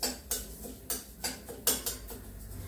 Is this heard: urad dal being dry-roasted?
yes